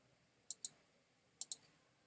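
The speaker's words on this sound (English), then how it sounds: "type it in here." Keys on a computer keyboard tapped to enter a reservation number: two quick pairs of crisp, close clicks separated by a short pause, in a quiet room.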